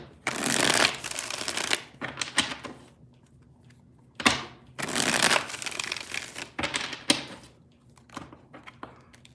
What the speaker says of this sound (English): 3 shuffles here, 3 more.